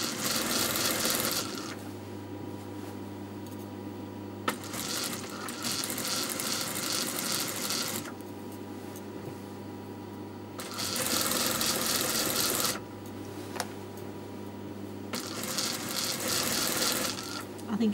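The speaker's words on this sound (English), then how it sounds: "now I'm going to double stitch this all the way around" A sewing machine double stitches fabric around a garment neckline in three long whirring runs, loud and close, with quieter pauses between them in which a low hum continues.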